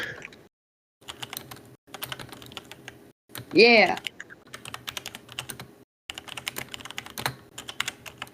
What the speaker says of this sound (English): I can hear typing everywhere.